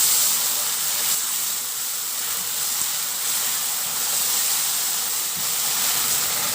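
Oyster sauce simmers and reduces in a pan with pepper, giving a steady, close, even sizzling hiss that holds unbroken throughout with no talking.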